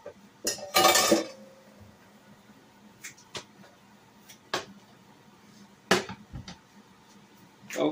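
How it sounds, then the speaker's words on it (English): A cooking pot is shifted aside on a kitchen stove while frying green plantain: a loud scraping clatter near the start, followed by a few scattered sharp clinks and knocks of metal against the stovetop, with no talking. "Move that pot, put it aside."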